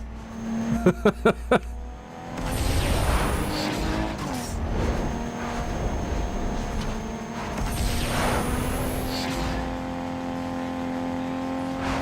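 In Need for Speed Underground 2, a race car snarls through a turn with a few sharp clicks at the start, then steady engine drone, revving shifts and braking, with a faint voice now and then.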